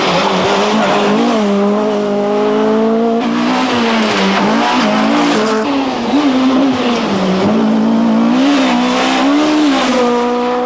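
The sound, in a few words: Renault Clio Maxi 1995 rally car engine driving away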